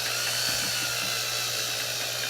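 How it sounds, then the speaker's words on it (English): A drill-mounted stirrer whirs steadily while degassing a Grenache rosé wine kit, a continuous power-tool drone at close range, alone and unbroken. "It's a lot easier to do with one of these drill-mounted stirrers."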